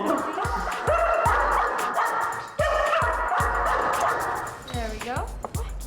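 A six-month-old puppy barks several times in short yips and woofs, fairly close, with people talking throughout and a whimpering whine near the end.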